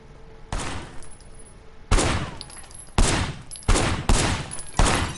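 Loud gunshots ring out one by one at a shooting range in the Sleeping Dogs video game. There are six evenly spaced reports, each with a short echoing tail, against a quiet background with no talking.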